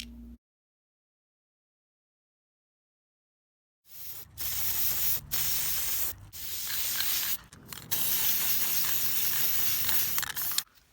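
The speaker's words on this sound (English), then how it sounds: "some silver spray paint" Silver spray paint hisses from an aerosol can onto a foam die in a steady, fairly loud burst lasting several seconds, broken by a few brief pauses, after a long stretch of silence.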